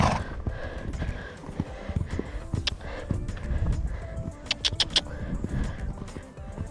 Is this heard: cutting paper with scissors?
no